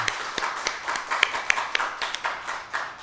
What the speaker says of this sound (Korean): 이분들을 위해서 박수 한번 쳐주십시오